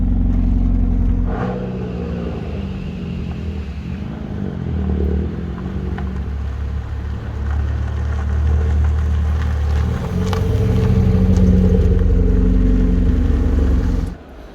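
A modified Rover 1.4 K-series petrol engine, running hot with its cam belt cover missing, revs up and holds a loud, steady drone with swelling and easing throttle, close by and with no talking.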